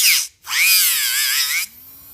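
A Tamiya Mini 4WD toy car's small electric motor whirs up in a high, buzzing whine, cuts out briefly, then spins again for over a second before stopping, close and loud.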